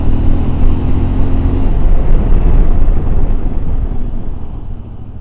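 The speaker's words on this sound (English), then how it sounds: "Very well balanced motorcycle, it stays good on the road." A CFMoto 450 MT motorcycle riding on a city road, engine droning steadily at cruising speed under heavy rushing wind noise, loud and close from the rider's position, easing slightly toward the end.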